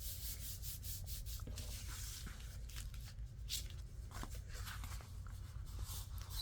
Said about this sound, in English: And fold that back and fold it down.